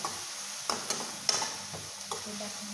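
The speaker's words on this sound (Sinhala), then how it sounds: "ඒ කලවම් කරගෙන" A spoon stirs a jackfruit seed and fish mixture in a pan, with soft scraping clicks over a low, steady sizzle, close and fairly quiet.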